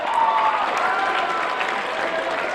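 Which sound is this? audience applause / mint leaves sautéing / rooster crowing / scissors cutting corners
audience applause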